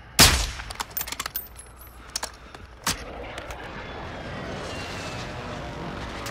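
A sharp close gunshot opens the Call of Duty: Modern Warfare II battle scene, followed by scattered lighter shots and another crack, then a steady roar like an aircraft engine droning underneath.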